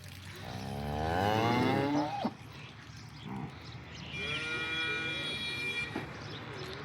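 Local Banaskantha cows moo nearby in long, deep, drawn-out calls, one after another, against a quiet farmyard background.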